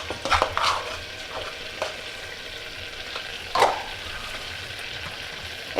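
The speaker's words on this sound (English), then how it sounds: "let that all simmer down" Garlic lemon butter sauce simmering in a pan, a soft steady sizzle broken by a few close stirring scrapes and clinks, with no talking.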